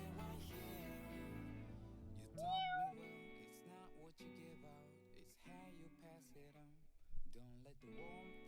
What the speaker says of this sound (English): There's a cat in my room.